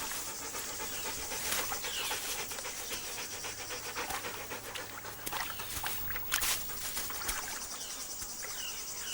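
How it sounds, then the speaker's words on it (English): A few African wild dogs at a shrinking, muddy pool in Mana Pools in Zimbabwe's Zambezi Valley, panting steadily at close range against a constant bed of insect and cricket chirring. "This one still contains just enough liquid to attract a few African wild dogs."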